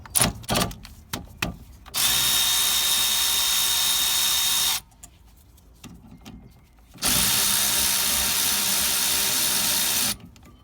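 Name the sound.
undoing caliper bolts on a Honda Civic Type R rear brake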